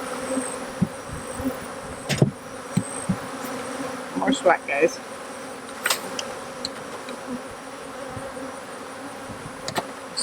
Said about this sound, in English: Still a ball of bees down there.